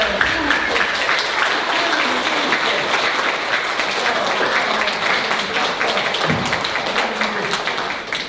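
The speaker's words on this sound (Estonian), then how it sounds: "Aplaus talle!" A school primary-grades Christmas party fills with steady, loud applause from a crowd of children and adults, with dense clapping throughout and some voices mixed in.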